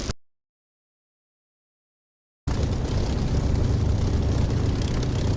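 A jet aircraft taxis toward the runway in the DCS flight simulator game; after a stretch of silence its steady engine roar comes in loud and constant.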